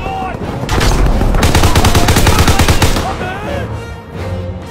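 Dense automatic gunfire and booming shots from a World War II battle in Call of Duty WW2, loud and continuous bursts rising sharply, then thinning out to scattered distant fire and rumble.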